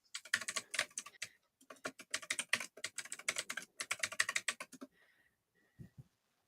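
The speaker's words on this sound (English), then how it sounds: "I like the ASMR typing sound there" Close, crisp clatter of rapid typing on a computer keyboard in quick bursts with short pauses, ending in a few isolated clicks.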